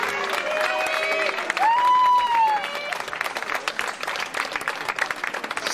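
Concert audience at a live band performance in Passirano breaks into sustained applause and crowd noise, starting under a fading sung note and music, then continuing as steady clapping.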